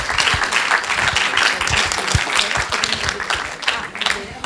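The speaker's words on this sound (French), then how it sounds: "On les applaudit encore," Audience applause at a French-language school competition, the Concours de la Francophonie: dense, steady clapping from a sizable crowd, close and continuous throughout.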